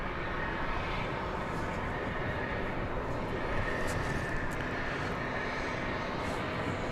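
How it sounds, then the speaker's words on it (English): A UPS Airbus A300 arrives at DFW Airport, its engines making a steady, broad roar that holds at an even level throughout, with no voices over it. "UPS Flight 2347 is now coming in. It's another A300."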